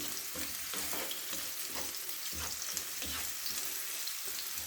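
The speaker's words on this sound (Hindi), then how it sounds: "तो बस इसको मैं फ्राई कर लूँ।" Onions fry in a little oil for palak saag, a close, steady, crackling sizzle with faint stirring scrapes and no voices.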